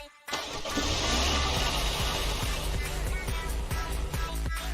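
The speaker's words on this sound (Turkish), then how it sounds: "Arabanın sesi bu şekilde." A car engine in a Roblox video game runs steadily at a loud, even level after a brief quiet start, with a low rumble and faint periodic ticks.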